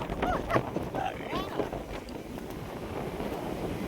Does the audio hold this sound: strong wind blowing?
yes